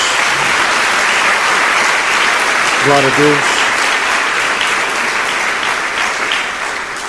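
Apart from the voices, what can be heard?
congregation applauding for Jesus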